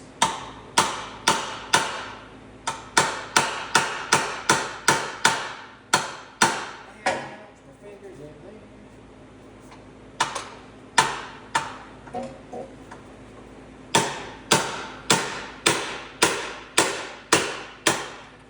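Sharp metallic hammer strikes on a BMW detent, close and loud, falling in quick regular bursts with a short quiet gap in the middle before the blows resume.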